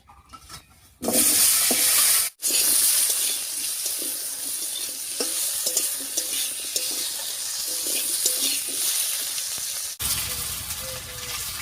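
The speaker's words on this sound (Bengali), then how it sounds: "এবারে আলুটা দিয়ে দিচ্ছি।" Potatoes hit hot mustard oil seasoned with whole cumin and a dried chilli, setting off a loud, steady hiss of frying that holds for about ten seconds with faint stirring clinks underneath.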